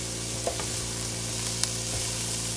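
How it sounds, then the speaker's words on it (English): Broccoli sautés in a hot pan with a steady, close sizzle and a few light stirring clicks, no voices over it. "Saute that broccoli up a little bit."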